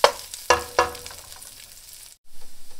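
Rice frying in a pan until golden: a soft crackling sizzle broken by a few sharp pops in the first second, fading quieter, then a brief silence followed by a short run of rhythmic pulses.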